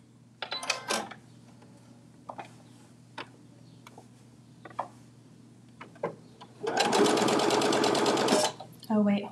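Sewing machine top stitching a Sew Together Bag, with scattered clicks and taps before a steady, loud run of rapid stitching up close, then a brief final burst.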